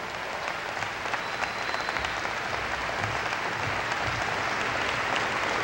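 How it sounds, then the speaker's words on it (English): Sustained, even audience applause at a rally against youth killings, welcoming a speaker to the stage; dense steady clapping from a large crowd, fairly loud and continuous throughout. "Let us welcome and receive Sister Dr. Lenora Fulani with a warm round of applause"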